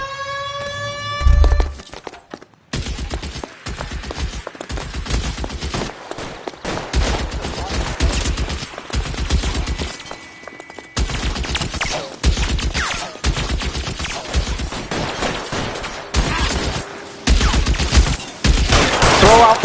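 Gunfire in a shootout in the video game L.A. Noire, dense bursts of loud shots crackling in rapid, repeated volleys with a siren-like wail at the start.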